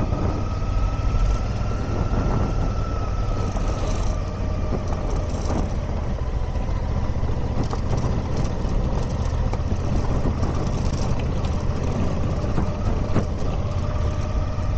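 A motorcycle engine runs steadily and fairly close for the whole stretch, a constant low rumble with no talking.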